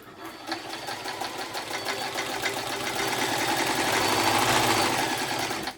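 A Janome Combi sewing machine stitches zigzag at about stitch length 2. It runs as a smooth, quiet, continuous whir with a fast mechanical patter, nearby and steady, without speech.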